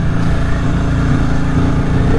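A Yamaha XS750 motorcycle engine idles and revs steadily after a carburetor cleaning, running close and loud with a slight bog, its low pulsing rumble continuous throughout.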